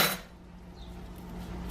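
A spoon scrapes and clinks against a bowl while clearing out lemon garlic asparagus ingredients, one brief bright scrape at the start, then quiet handling noise over a low hum.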